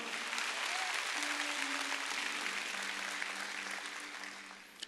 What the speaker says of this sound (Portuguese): Então dê um aplauso bem forte ao Rei da Glória.